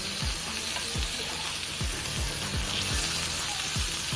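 A 1.5-pound porterhouse steak fries in a pan with butter and smashed garlic, giving a steady, close sizzle broken by soft, regular knocks about twice a second.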